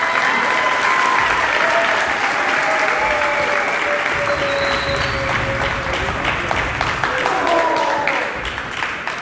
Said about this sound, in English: Let's keep that applause loud and going as we welcome to the podium,